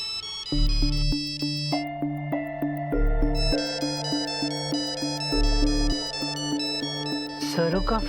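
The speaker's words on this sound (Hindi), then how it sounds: "सरू का फोन आ रहा है सरोजा के फोन पे।" A phone ringtone on Saroja's phone, with Saru calling, plays a repeating melodic tune of bright tonal beeps with a steady pulsing rhythm. It sounds close and loud, runs for about eight seconds, and ends abruptly.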